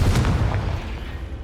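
Confringo and Bombarda spell explosions in Hogwarts Legacy: a quick run of booming blasts with deep rumbling low end, several bursts close together near the start, then a sustained roar that slowly fades.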